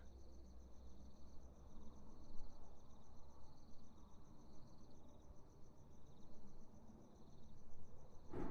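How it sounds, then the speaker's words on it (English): Crickets chirp in a steady, faint outdoor chorus, a continuous high trilling that pulses softly over low background rumble with no voices. "you should hopefully be able to hear those crickets"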